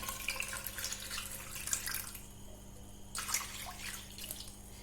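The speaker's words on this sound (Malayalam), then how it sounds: "ഈ പഴം ഒന്ന് പുഴുങ്ങി വരാൻ ആവശ്യമായിട്ടുള്ള വെള്ളം ഇതിനകത്തേക്ക് തന്നെ ഒഴിക്കുവാണ്" Water pours into a non-stick pan holding bananas set to boil, a soft, fairly quiet splashing stream that stops briefly midway and then resumes.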